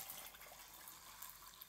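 Water runs from a tap into a 40 ounce glass, a soft steady gushing and splashing that fills the short moment at low level with no talk.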